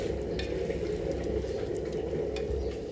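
Masala-coated prawns get mixed in a pot, the spoon turning them over a steady loud frying hiss and sizzle, close up with occasional light scrapes against the metal.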